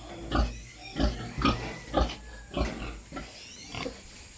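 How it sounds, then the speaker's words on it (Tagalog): Pigs at a rural farm grunt and oink in a regular series of about eight short, close, fairly loud bursts, with no talk over them. "Ay, dapat baboy ito."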